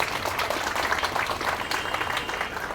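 Audience applause at a Milad-un-Nabi gathering in Whitefield, a steady wash of many hands clapping continuously and moderately loud throughout, with no talk over it.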